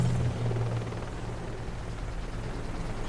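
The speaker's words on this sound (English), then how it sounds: "Hey, there's a helicopter." A helicopter in the video game Deadlight gives a steady low rotor rumble and drone that holds at an even loudness through the moment, with no talk.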